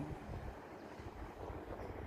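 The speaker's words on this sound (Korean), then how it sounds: "오, 바람 소리 들리시죠?" Soft, low wind rumbles and buffets against the microphone, a continuous faint outdoor whoosh with no voices.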